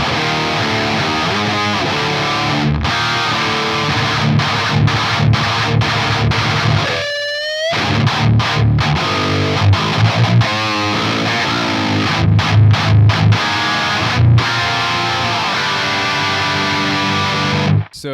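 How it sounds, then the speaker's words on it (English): Heavily distorted electric guitar plays a dense, loud riff from a cover song, with its natural unprocessed tone, tight palm-muted chugs, brief stops and a pitch-sliding squeal, continuing steadily without any voices. "show you what the guitar tone sounds like naturally before we get to the static mix tone"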